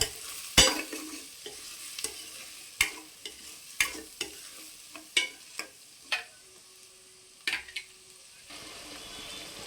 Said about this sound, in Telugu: ఉల్లిపాయలు కూడా వేసుకుందాము ఉల్లిపాయలు బ్రౌన్ కలర్ వచ్చే వరకు ఆగనిద్దాం బాగా